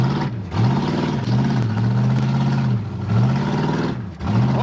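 A Buick Wildcat engine that sat unused for 21 years runs rough and loud, its revs rising and falling in several uneven surges that then settle back to a lumpy idle, with no talking.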